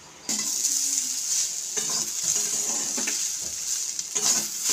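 Flattened rice pulao is stirred in a hot pan over low heat after a sprinkling of water, giving a continuous loud sizzle with rhythmic scraping strokes of the spatula.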